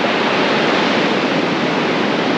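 Sea water washes steadily over the path to an island near Trivandrum, a loud, continuous broadband rush of surf with no pauses or voices.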